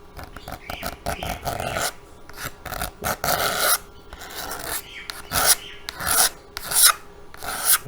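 Dried residue is scraped off a plastic surface during polishing, a loud, close, rasping scrape repeated in uneven strokes that continue steadily without any talk.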